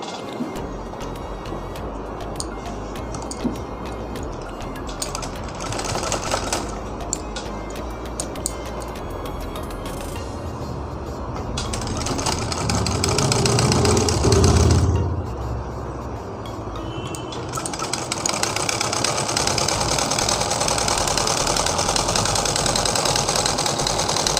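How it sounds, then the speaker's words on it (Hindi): A sewing machine stitches around the neckline of a katori cut blouse, giving a steady, continuous mechanical drone that swells briefly near the middle. "यहाँ से सिलाई करते हुए पूरे गले पर सिलाई कर लेनी है।"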